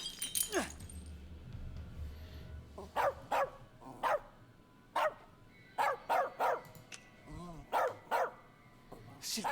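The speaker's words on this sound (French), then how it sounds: "C'est un chien, gros malin." A dog in the video game As Dusk Falls barks sharply in a run of about a dozen loud, close barks with short gaps, over a low background rumble.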